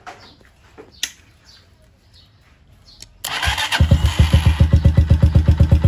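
A Honda TMX 125 motorcycle cranks and fires after its starter switch is replaced, then settles into a loud, steady idle with rapid even pulses, following a quiet stretch with faint birdsong and a couple of clicks.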